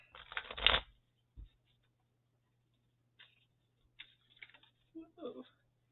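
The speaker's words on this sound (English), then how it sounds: "If I could shuffle." Tarot cards being shuffled in a brief riffle burst near the start, then scattered soft taps and card handling, with a short bit of talk at the end.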